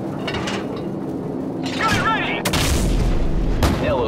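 An explosion from Call of Duty 4: Modern Warfare lands as a deep, heavy boom about halfway through, over continuous rumbling gunfire and radio chatter, with voices talking throughout.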